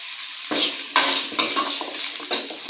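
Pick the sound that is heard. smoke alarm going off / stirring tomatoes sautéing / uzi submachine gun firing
stirring tomatoes sautéing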